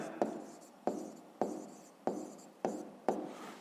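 Handwriting an answer on paper in fifth-grade maths work, with six evenly spaced scratchy pen strokes at close range and no talking.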